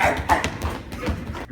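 Dogs in an Animal Farm scene bark and growl in a rough, continuous burst, loud and close, with no talking over them.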